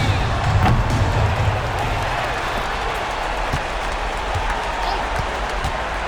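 Home crowd noise in an NBA 2K26 basketball game, a steady broad roar of cheering fans that swells briefly near the start, with faint court thuds and squeaks underneath.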